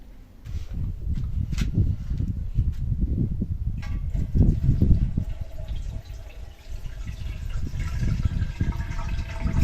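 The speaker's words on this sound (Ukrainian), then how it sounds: "Тож, заливаємо зараз воду." Room-temperature water runs and splashes into a metal autoclave pot holding jars, a continuous pouring gurgle with uneven surges, fairly close by.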